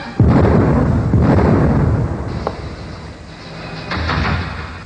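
A loud, deep blast bursts out abruptly, followed by a rumbling roar that lingers and swells again toward the end, with no voices.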